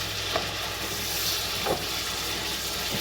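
Chopped homegrown garden peppers are stirred into sizzling chicken fat in a pan, giving a steady frying hiss with a couple of soft scraping stirs, close and moderately loud with no talking.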